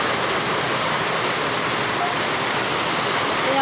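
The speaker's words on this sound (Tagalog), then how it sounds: "Kusog yung ulan" Heavy rain pours down steadily during a typhoon, a dense, loud, unbroken roar of water that stays level from start to finish.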